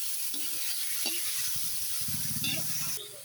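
Soft shell turtle meat sautés in a hot pan for adobo, a steady loud sizzle broken by the scrape and clatter of stirring throughout.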